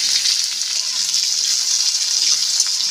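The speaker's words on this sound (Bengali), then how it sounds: "তেল গরম হয়ে গেছে, দিয়ে দিলাম কেটে রাখা করলা" Sliced bitter gourd sizzles in hot mustard oil in a wok, a loud, continuous, hissing fry that stays steady throughout.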